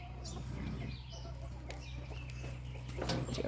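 Backyard chickens cluck softly and intermittently on a suburban farm during morning chores, over a steady low hum, with a few sharper calls near the end.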